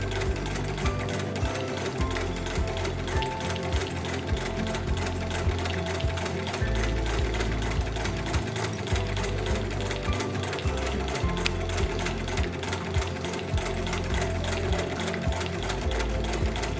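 A hand-cranked sewing machine stitching a plain seam clatters close by in a dense, rapid mechanical rhythm, with its needle and gears ticking steadily and no voices.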